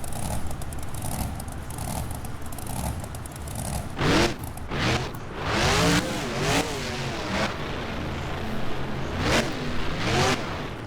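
The red Toro Loco monster truck's engine revs and roars in BeamNG.drive during a freestyle event, steady droning that surges into repeated loud rising revs and bursts as the truck launches into a run.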